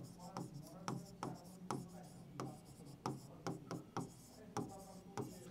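A word is written out by hand during a Class 6 maths lesson on ratios, a quiet run of separate scratchy strokes in an uneven rhythm.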